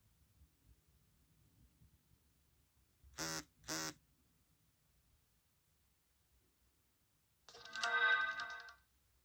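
An Android 2 phone finishes booting with two short, sharp electronic tones in quick succession, followed a few seconds later by a louder buzzing burst, all against near silence.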